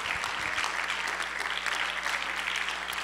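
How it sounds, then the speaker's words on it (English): A church congregation claps hands in steady, sustained applause through the whole stretch, even and fairly close, with a low hum beneath and a few brief thumps at the start. "would you clap your hands before you're seated?"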